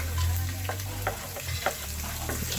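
Ginger sizzling and frying in a pan as it is sautéed toward golden brown, a steady close sizzle with occasional soft stirring scrapes, no talk.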